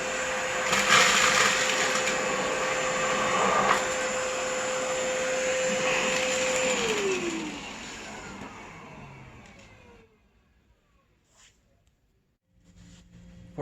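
A ReadiVac Storm RH2000 wet/dry hand vacuum runs with a loud steady whine and rushing airflow, then its motor winds down to silence before a faint click returns.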